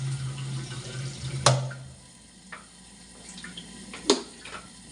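Water is briefly poured into a pot of pinakbet with tomatoes, with a few clinks and knocks of cookware, close by in a quiet kitchen.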